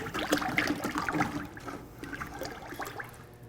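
Liquid pottery glaze for a white rim is stirred up close, giving wet, sloshing swirls and trickles that are busiest at first and then ease.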